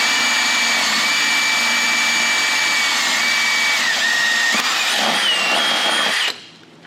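A power drill boring a hole through car trim on a Nissan 350Z during a coilover install, a loud steady high-pitched whine that shifts pitch slightly before cutting off abruptly near the end.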